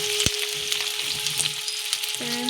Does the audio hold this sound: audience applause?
no